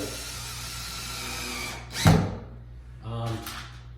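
A screw gun driving sheet metal screws into a 3/4-inch PVC pipe camera stand, with two short whirring bursts, the first louder, over a quiet background.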